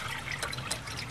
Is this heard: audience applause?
no